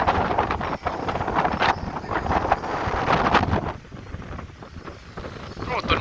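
Strong storm wind gusts in Vientiane, Laos, buffeting the microphone with loud, uneven roaring bursts that ease briefly toward the end before picking up again.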